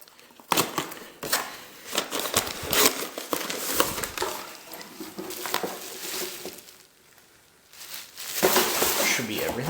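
Tearing and crinkling of a militaria parcel being cut open, with sharp crackling packaging noise in bursts across the span, close and fairly loud, a quieter pause near the end before the rustling returns.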